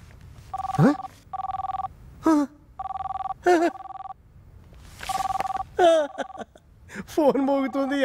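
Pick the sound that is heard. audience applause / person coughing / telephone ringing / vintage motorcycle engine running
telephone ringing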